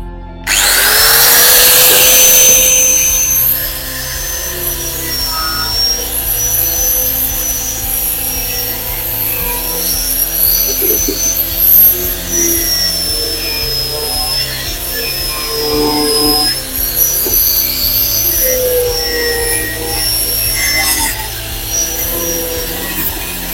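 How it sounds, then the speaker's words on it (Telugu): A power cutting machine slices through PVC pipe for a balcony vertical garden, giving a loud, steady high-pitched whine that runs almost unbroken throughout with small shifts in pitch as the blade bites, and no talking. "నా దగ్గర మిషన్ ఉంది కాబట్టి మిషన్తో కట్ చేస్తాను నేనైతే."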